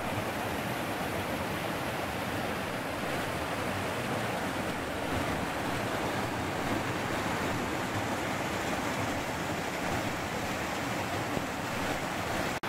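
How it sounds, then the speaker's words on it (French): A mountain stream runs downhill through the woods, its steady rushing water holding an unbroken broadband roar at constant strength the whole way through, close to the microphone, with no voices. "Voici un ruisseau là qui vient de la montagne, d'en haut"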